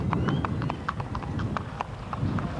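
A thoroughbred horse walks along with a steady clip-clop of hooves, each strike crisp and evenly spaced, heard up close over a constant background rumble with no talking.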